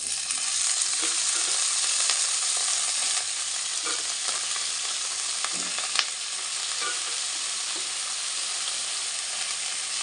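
Vegetables for chire polao (flattened rice pulao) frying in white oil, a steady loud sizzle across the whole stretch with occasional stirring scrapes and clinks, no voices.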